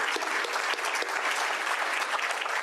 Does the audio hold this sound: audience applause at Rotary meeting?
yes